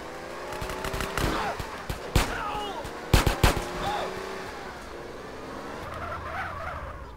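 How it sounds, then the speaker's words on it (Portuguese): Gunfire hitting a car in the video game GTA San Andreas, with sharp shot cracks and metallic impacts in scattered bursts over engine and tire noise, loud and close. "vocês vão ficar atirando no meu carro mesmo?"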